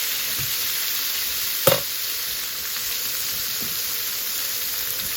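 Small green pepper and onions sautéing with chicken breast in a pan, a dense, steady close-up sizzle with a single sharp clack partway through, alone without talk.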